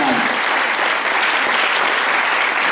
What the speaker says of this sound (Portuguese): eu queria pedir mais uma salva de palmas para todos que estão aqui presentes no nosso evento